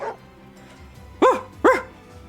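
A dog in the strategy video game Wargroove barks twice in quick succession, sharp and close, over a soft background of low game music.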